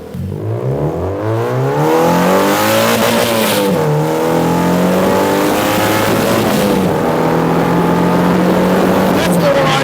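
An MEV kit car accelerates hard through the gears, its engine note climbing, dropping at a shift and climbing again, loud and close from inside the car, with a voice speaking briefly.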